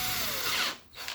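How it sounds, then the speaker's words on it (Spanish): A power drill fitted with a 3 mm bit boring into wood for a furniture anchor, a loud continuous whine that drops away briefly near the end, no talking. "taladramos"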